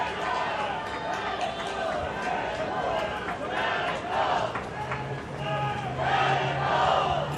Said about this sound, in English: The crowd's starting to really get loud.